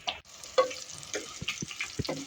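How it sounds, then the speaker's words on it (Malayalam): Green chilies frying for a Kerala kalan curry, stirred with scattered scraping and clinking strokes over a faint, light sizzle; quiet and close, with no voices. "പച്ചമുളക് ചേർത്ത് കൊടുക്കുക അത് നന്നായി ഇളക്കി കൊടുക്കണം"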